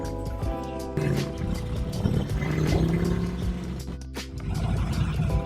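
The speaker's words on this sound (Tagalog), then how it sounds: "Ganito pala pakiramdam kapag nag-drive ka ng Ducati Scrambler" Ducati Scrambler motorcycle ridden on the road, its engine rumbling steadily and shifting in pitch with the throttle, wind noise over it, recorded close from the rider's position.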